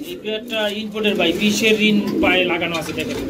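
Beauty pigeons, a male and female pair, coo softly in a close rhythmic murmur beneath steady nearby talk.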